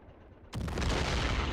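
Mortar fire in the Men of War game lands as a sudden loud boom after a quiet moment, then a long rumbling roar of explosions and debris, no voices.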